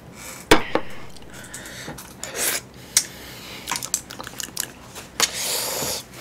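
Someone eating chewy jjolmyeon noodles with tteokgalbi close to the mic: wet chewing, slurps and smacking bites in an uneven rhythm, some sharper louder bursts, no talk.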